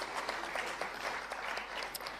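Faint, distant applause at a global conference of meditation leaders, a soft continuous patter of many hands clapping with no voices over it.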